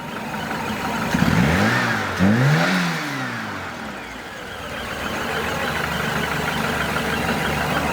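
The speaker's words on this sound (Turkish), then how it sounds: "Araca marş yaptık." A Fiat Uno 70S with a 1.4 engine, fresh gearbox oil just added, starts up and revs twice in quick rising sweeps, then settles into a steady, loud running idle close by.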